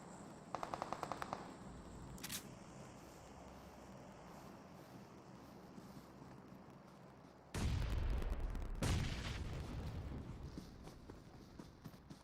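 Rapid automatic gunfire in a multiplayer shooter, pre-firing at a tree with an AK: bursts of sharp cracks, with a louder, denser volley later on, under ongoing game ambience.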